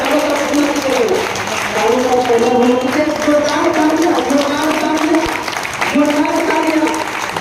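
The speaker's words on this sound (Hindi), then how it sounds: "बाबा साहब भीमराव अंबेडकर जी के नाम पर एक जोरदार तालियां बजाइए" A crowd gathered near a statue of Babasaheb Bhimrao Ambedkar applauds loudly and steadily, a continuous wash of clapping lasting several seconds while a voice talks over it.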